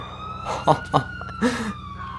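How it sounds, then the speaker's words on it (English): An ambulance siren from the video game GTA IV wails loudly and up close, steady tones cut by a few short bursts, with traffic noise beneath. "Look at that! There's an ambulance!"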